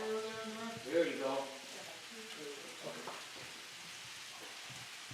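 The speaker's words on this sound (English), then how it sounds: "Okay, now you can hear it sizzling." Garlic and pepper shellfish sautéing in a pan give off a steady hiss and crackle, heard under a person's talking that fades out partway through.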